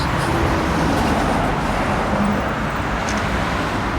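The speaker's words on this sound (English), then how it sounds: "Lots of cars. Didn't expect this." Busy morning road traffic on a street in Kyoto's Higashiyama district, a steady, loud wash of cars and other vehicles passing close by with no break, no voices.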